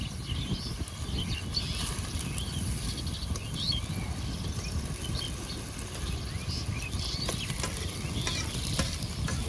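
Koi fish frying in hot oil in a village-style kitchen, giving a steady, loud, dense sizzle with faint crackles throughout, and nobody talking.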